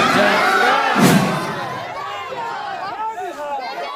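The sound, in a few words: large crowd gathered at a political march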